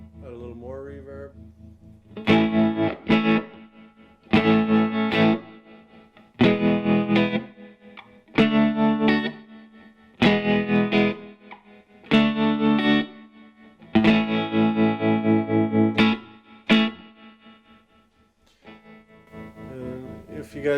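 An electric guitar played through a 1964 Gibson Falcon amp with added reverb rings out in repeated strummed chord bursts of a couple of seconds each, separated by short pauses, close and loud with a distorted edge.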